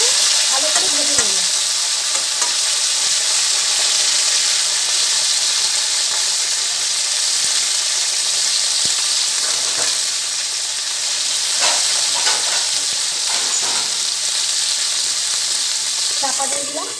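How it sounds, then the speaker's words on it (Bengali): Pointed gourd (potol) frying in hot oil gives a loud, steady sizzle that runs the whole time, with a few brief clinks of stirring scattered through it. "পটলগুলো একটু ভালো করে ভেজে নেব।"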